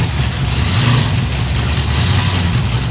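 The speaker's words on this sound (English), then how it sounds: "another blown car just coming in there" Supercharged muscle car arriving at a Cars & Coffee meet, its engine rumbling loudly and steadily nearby with a deep low-pitched drone and no talking.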